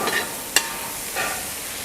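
Masala fries in a pan and is stirred, giving a continuous close sizzle with a sharp scrape of the spoon partway through and a brief swell of frying noise afterward.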